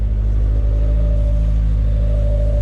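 A Honda S2000 fitted with a J's Racing test pipe idles and gently revs close by, a deep continuous exhaust rumble with a slight rise in pitch and no talking.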